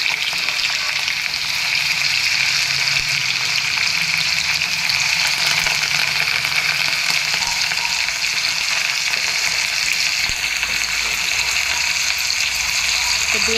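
Chopped onions fry in hot oil for a stuffed brinjal curry in a home kitchen, making a loud, continuous sizzle with a watery crackle that holds steady from start to finish.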